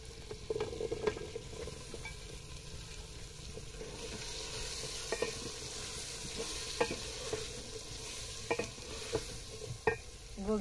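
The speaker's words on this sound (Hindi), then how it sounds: "गोभी आलू का सालन पका रहे हैं।" Cabbage and potato curry frying in a pot over a village wood-fired clay stove, stirred with a spoon that scrapes the pan in irregular clatters over a steady low sizzle.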